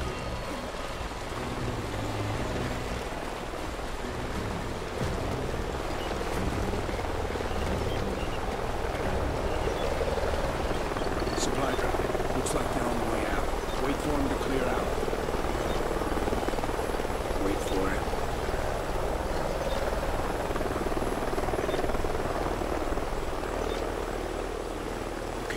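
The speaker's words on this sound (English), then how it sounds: "Sounds like a chopper's up ahead of us." A helicopter in Call of Duty: Ghosts holds a continuous rotor drone as it flies nearby over a canyon river, steady and moderately loud throughout with a faint water wash beneath.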